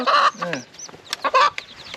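Hens cluck and squawk up close at a rural Thai home, in quick, loud bursts with short pauses between calls.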